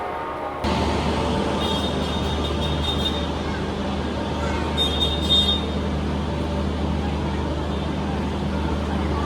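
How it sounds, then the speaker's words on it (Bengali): The Howrah–NJP Jan Shatabdi Express 12041 stands at platform 11 of a busy station, giving a steady rumbling drone with faint metallic squeals and murmuring crowd noise. "আমাদের ট্রেন দিয়েছে বারো শূন্য একচল্লিশ হাওড়া এনজিপি জনশতাব্দী এক্সপ্রেস এগারো নম্বর প্ল্যাটফর্মে"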